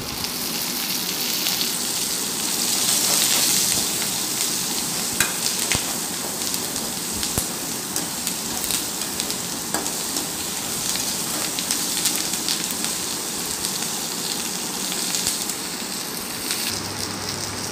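Steady sizzling and crackling of onions and coriander frying in a hot pan, continuous and close, with occasional sharper pops.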